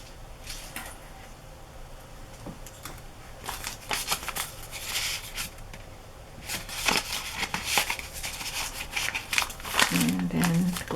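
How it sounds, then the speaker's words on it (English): Metal paper clips being slid off coffee-dyed paper journal pages: close, irregular rustling and crinkling of stiff paper with sharp little clicks and scrapes, growing busier toward the end. "I gotta take the paper clips off."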